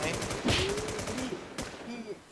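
Gunfire from the video game Infestation: a couple of sharp shots ring out over game sound, fairly close, with voices talking in the background.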